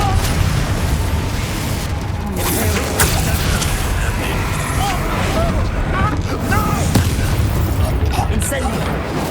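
A Confringo fire spell in Hogwarts Legacy blasts with booming bursts and crackling impacts, repeated through a dense, loud stretch of game combat, with a shouted voice over it.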